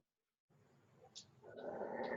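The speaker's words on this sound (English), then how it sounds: "I'm going to have my dogs barking." Dogs in a home make faint, short yips and whimpering barks, distant and low in level, rising slightly toward the end.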